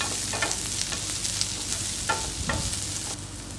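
Chopped medium-size onion sautés in hot oil in a pan, a steady sizzle broken by a few scraping stirs of a spoon, close and fairly quiet.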